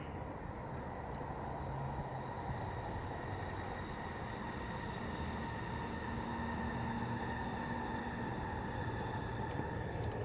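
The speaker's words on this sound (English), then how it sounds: "Trains are coming fast and furious now." Trains pass by at a distance in a steady, continuous rumble with faint rail squeal, a low even roar lasting throughout with no talk.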